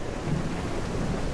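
Thunderstorm in the survival game Mist Survival: a dense, steady wash of rain with a low rumble of thunder rolling underneath, continuous and without voices.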